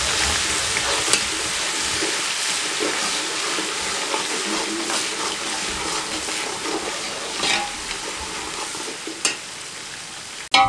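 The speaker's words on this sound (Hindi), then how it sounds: "सौ ग्राम लहसुन और अदरक जब प्याज ब्राउन हो जाए इसमें शामिल कर दें, कुटा हुआ।" Crushed garlic and ginger, about a hundred grams, frying with browned onions for a village-style Hunza white chicken karahi, make a loud continuous sizzle with bursts of stirring and a clatter at the very end.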